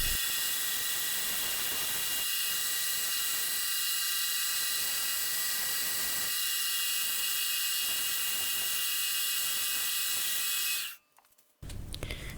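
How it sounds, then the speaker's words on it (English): A hex nut ring is sanded with 150 grit sandpaper on a rotary tool, giving a steady high-pitched whine with a rough scraping texture throughout that cuts out abruptly near the end. "I started with 150 grit sandpaper"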